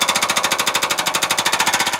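Jackhammer-like construction machinery at a downtown redevelopment site near City Hall, loud fast pounding strikes in an even rhythm of roughly twelve per second, continuous and close, with no talk.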